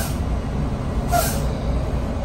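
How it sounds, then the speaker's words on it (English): A truck's air brake system bleeding off pressure inside the cab, a brief hissing burst of released air rising over a steady low engine idle rumble. "start your air brake. So I'm gonna get my pressure down to 90 psi."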